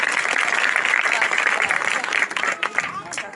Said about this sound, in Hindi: दोनों हाथों को लहरा कर यीशु की जात के लिए जोर से ताली बजा दें।